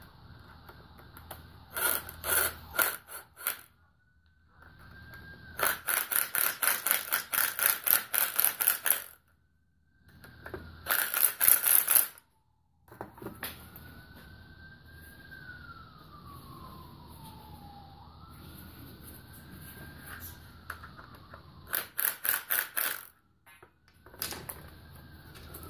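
An impact driver tightens a chimney brush pole extension in repeated loud, rapid hammering bursts separated by pauses, with a faint high whine of the motor between bursts.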